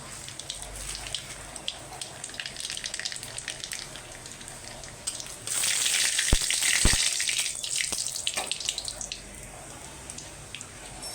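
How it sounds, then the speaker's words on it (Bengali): Dried red chili and nigella seeds dropped into hot oil for Bengali puri torkari, a sharp burst of sizzling mid-clip over a steady low kitchen hiss, then crackling that slowly eases. "এই যে আমার তেলটা গরম হয়ে গেছে আমি এবার দিয়ে দিচ্ছি একটা শুকনো লঙ্কা"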